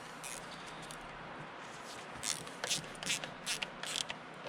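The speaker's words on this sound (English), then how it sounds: "Get it with the old Guten type 1/4 inch drive ratchet" An old 1/4 inch drive ratchet tightening a fastener during fuel tank and carburetor work on a 1983 Oldsmobile, a few quick bursts of clicking pawl strokes over a low background hum.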